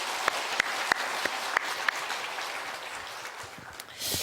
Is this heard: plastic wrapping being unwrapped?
no